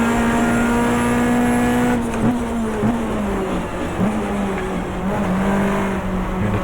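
Race cars launching at the start of a 1994 Australian Manufacturers Championship race at Oran Park in the GTR2 racing game, a loud, close engine drone with rising revs and gear changes, no voices.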